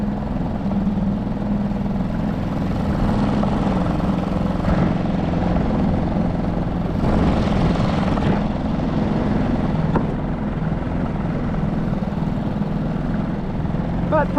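Small outboard motor pushing a solo skiff, a loud steady engine drone with a constant low hum that swells slightly in places, running continuously with no talk.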